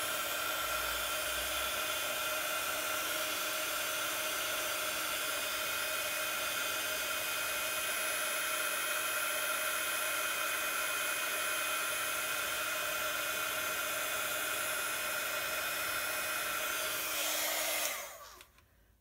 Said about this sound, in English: with my heat gun, I'm going to melt that